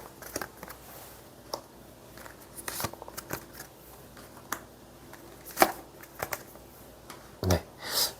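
Tarot cards shuffled and drawn from a deck: a run of soft, irregular riffles, flicks and snaps, with a few louder taps near the end, close and fairly quiet, with no voice.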